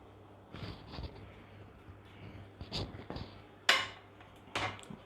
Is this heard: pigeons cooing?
no